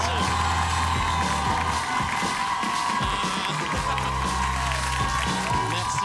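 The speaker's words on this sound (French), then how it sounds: "Un tonnerre d'applaudissements pour Thomas N'Djidja" An audience claps and cheers loudly throughout, a continuous wash of hands and shouts with music playing underneath.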